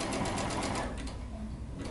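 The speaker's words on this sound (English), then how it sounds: "I'm going to sew my entire dress using a very narrow zigzag stitch so that I get some stretch." A sewing machine runs a very narrow zigzag stitch on jersey fabric with a ballpoint needle, giving a fast, even mechanical whirring clatter up close that slows and fades near the end.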